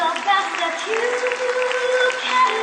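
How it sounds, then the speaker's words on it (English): An audience at a school annual function claps for children performing a dance, a steady patter of applause mixed with voices and cheering from the crowd. "Please keep clapping for the children."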